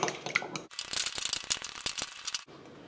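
A fork beating eggs for scrambled eggs, giving a quick run of rapid clinking, rattling strokes against the bowl over about two seconds, fairly faint and alone.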